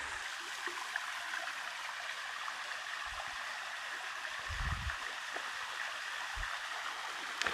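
Steady rushing flow of water from a spring in the Bosnian countryside, a continuous close stream sound with a few low thumps and no talking.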